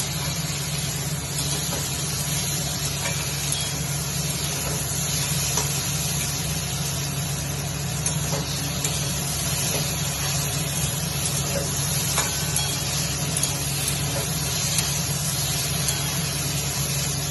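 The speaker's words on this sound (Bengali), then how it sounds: "এই সবজিগুলো ভালো করে লাল লাল করে ভেজে নিতে হবে, বেগুন, আলু আর ডাঁটা।" Pieces of eggplant, potato and drumstick stem frying in oil in a pan for a small-fish chorchori, a constant close sizzle and hiss with faint stirring scrapes and ticks scattered throughout.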